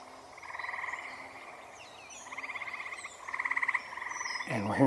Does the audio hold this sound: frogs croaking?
yes